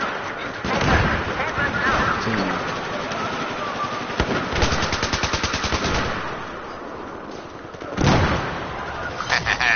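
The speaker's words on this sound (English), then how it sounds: "3 kills with that grenade" Grenade blast and gunfire in Battlefield 4, with sustained automatic fire, loud bursts around the one-second and eight-second marks, and rapid shots in between, all mixed with game noise and some voice.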